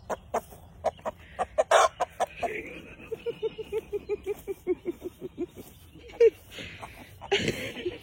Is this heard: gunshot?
no